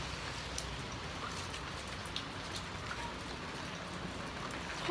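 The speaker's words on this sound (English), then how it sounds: "I'm outside and it is raining out here." Rain falls steadily outdoors as a soft, even patter with occasional louder drops hitting a surface, faint and continuous with no voices.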